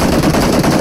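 Dense, continuous gunfire from a battle royale shooter on the Karakin map, a loud unbroken burst with no pauses across the short moment and no voices over it.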